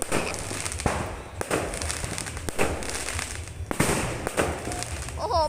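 New Year fireworks and firecrackers go off in repeated sharp bangs every second or so over a constant dense crackle, loud and close, with occasional voices in the background.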